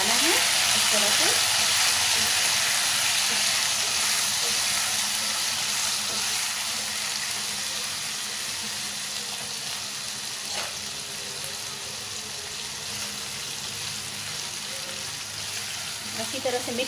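Eggplant sabzi, made without onion or garlic, frying in a pan while being stirred: a steady bright sizzle that is loudest at the start and eases slightly, with occasional scrapes of stirring.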